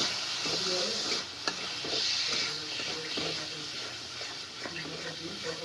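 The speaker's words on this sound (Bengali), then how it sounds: "ফুলকপি আলুটা ভাজা রয়েছে তারপরে তাহলে মটরশুঁটিটার সাথে দিয়ে দিই একটু ভাজা ভাজা হয়ে যাবে" Cauliflower, potato and peas frying in spices in a pan, a steady close sizzle with stirring scrapes throughout, fairly loud and continuous with no talk over it.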